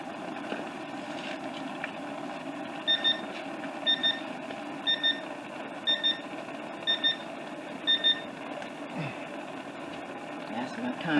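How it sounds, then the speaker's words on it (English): A kitchen timer beeps in quick double pips about once a second, six times, over a steady low hum while collard greens cook. "That's my timer going off."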